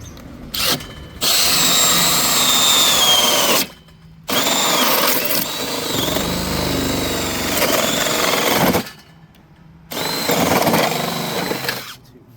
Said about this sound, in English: I guess drill this side and then we'll drag it over.